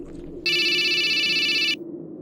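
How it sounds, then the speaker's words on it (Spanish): A landline telephone rings in one steady electronic burst of a little over a second, loud and alone against a quiet room hum. "mi teléfono fijo sonó"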